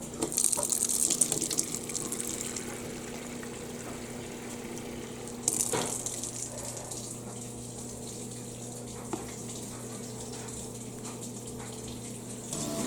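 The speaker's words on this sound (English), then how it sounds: "Gotta add water, a little bit water, make it wet." Water runs and splashes from a tap onto salted vegetables in a bowl for kimchi, a steady moderate gush with a couple of louder pours and a low hum underneath.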